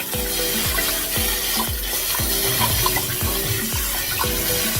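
Cold water runs and splashes steadily over basmati rice in a pot, a constant rushing stream poured from close by, with a faint repeating churning rhythm beneath it.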